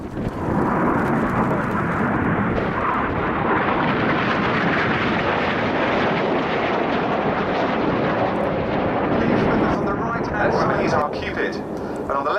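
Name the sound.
Red Arrows jet aircraft performing the Detonator display manoeuvre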